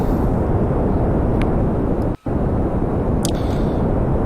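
Rocket engine in the Kerbal Space Program video game, a loud, steady broadband roar that cuts out abruptly for a split second midway before resuming.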